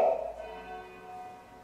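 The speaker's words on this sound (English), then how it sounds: "Listen to those confounded bells," Church bell ringing as a single struck tone that decays slowly, with sustained humming overtones fading out over a second or so, moderately distant and alone.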